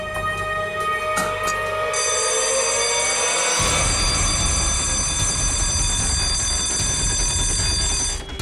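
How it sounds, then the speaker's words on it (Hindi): An alarm rings steadily for several seconds in a tense crime-drama scene at a murder site, a continuous bright electronic bell-like tone over dense low rumble, loud and alone with no talking. "सर अलार्म की आवाज आई"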